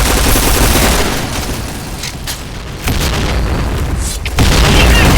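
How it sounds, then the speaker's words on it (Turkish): Loud, dense blasts from bombs in a clan match video game, a continuous roar of booming detonations and gunfire that dips briefly midway and then surges back to full strength. "Dikkat! Bomba atıyorum!"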